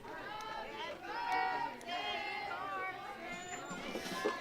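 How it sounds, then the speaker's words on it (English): Crowd of fans at a softball championship game singing happy birthday together, a sustained mass of voices carrying a loose melody with steady chatter mixed in. "You can hear the crowd singing happy birthday to Carson Haygood"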